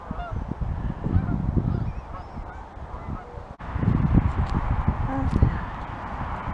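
Geese honk repeatedly on a cold seaside shore in November, a loose cluster of calls rising and falling at moderate distance, mixed with steady outdoor wind and water ambience.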